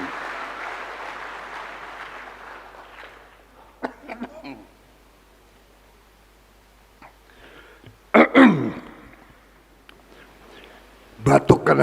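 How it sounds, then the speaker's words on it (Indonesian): A man coughs during an energetic political speech at a rally, with a few harsh bursts from close to the microphone, separated by near silence and brief crowd noise. "Batuk karena semangat."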